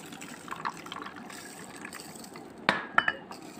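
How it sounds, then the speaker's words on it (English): Water is poured into a container of seeds for sprouting, a soft trickle and splash followed by a few light glassy clinks near the end. "Add some water in."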